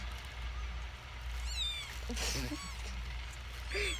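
A young kitten lets out a few thin, high meows that stand out faintly against a steady low background hum.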